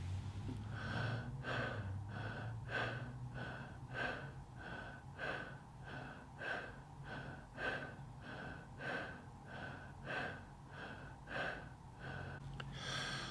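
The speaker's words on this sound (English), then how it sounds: "We will do a few minutes of this faster breathing and then do some visualization work." Fast, deep superventilation breathing exercise: a quick, regular series of about a dozen sharp, forceful breaths, each a breathy rush, close and steady in rhythm over a low background hum, with no talking.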